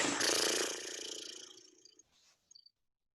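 A rough, rumbling lip flutter on a long exhale fades out slowly, followed by a couple of small soft breath sounds.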